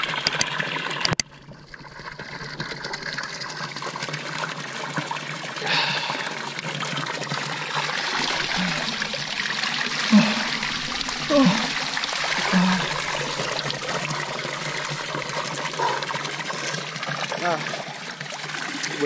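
Pure mountain water from the Sierra Nevada in La Alpujarra flows and trickles steadily throughout, a continuous close splashing wash with a brief dip near the start.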